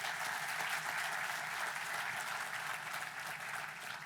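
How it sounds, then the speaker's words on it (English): An audience gives a governor a steady round of applause at an anniversary event, a dense wash of many hands clapping that fades slightly toward the end. "Let's give the governor a round of applause."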